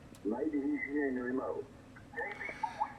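High-pitched QRM interference whines on a Yaesu FTdx5000MP amateur radio transceiver, a thin steady tone running over garbled radio voice and static in two short stretches.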